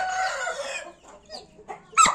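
A single rooster crows once, close and loud, followed by a few quieter clucks and a sharp final call.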